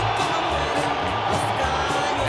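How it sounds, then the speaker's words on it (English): Boxing arena crowd at a Pacquiao vs. Marquez fight reacting as Marquez appears on the big screens, a dense, steady roar of many voices with scattered shouts, loud and continuous throughout. "now the crowd responds against the picture of Marquez, which appeared on the big screens as he comes into the house"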